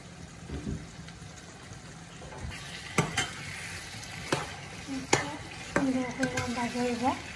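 Prawns and bottle gourd frying with spices in a pan, soft sizzling under intermittent stirring and scraping clinks, growing louder toward the end.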